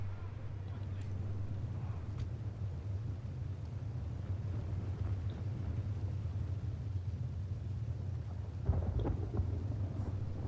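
Steady rain with a low rumble of thunder falls over a battlefield in a strategy video game, with a louder thunder swell near the end; constant and fairly distant, without speech.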